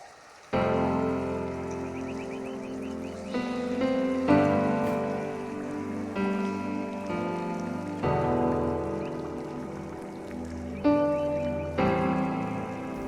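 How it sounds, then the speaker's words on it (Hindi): Steady, non-stop rain in Salalah, Oman during the khareef monsoon, a dense close hiss of drops hitting surfaces with a few louder patters and a continuous droning tone underneath. "बिल्कुल नॉन स्टॉप बारिश हो रही थी"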